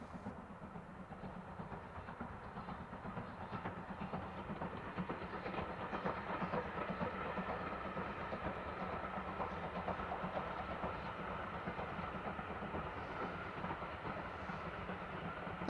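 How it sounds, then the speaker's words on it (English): BR Standard 4 steam locomotive 80151 hauls a Santa Special past Waterworks on the Bluebell Railway, a steady, fairly faint rumble of wheels and rolling stock with soft hiss, continuous throughout and without voices. "This final shot sees standard 4 locomotive number 80151 on the Santa Specials at Waterworks."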